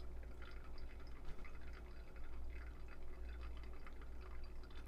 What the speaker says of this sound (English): I'm just gonna add some more water.